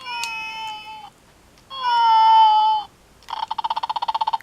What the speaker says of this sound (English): let's see if we can get on the purr one more time.